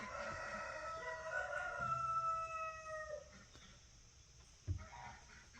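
A rooster crows from a farm chicken coop, a long stepped call with strong harmonics rising and then holding for about three seconds, followed by quieter farmyard ambience and one short thump near the end.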